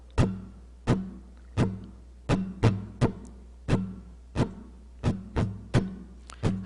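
Percussive strums on an acoustic guitar, a pattern of three single down strokes and a quick down-up on the fourth beat repeated, close and dry with nothing else around.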